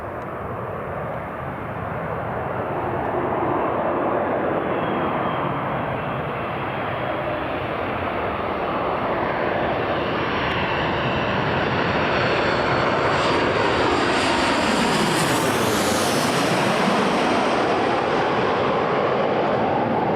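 A jet airliner lands at Newcastle International Airport with a loud, sustained engine roar that swells as it passes close by. The pitch sweeps down sharply at the nearest point, then a broad rumble continues as it rolls away.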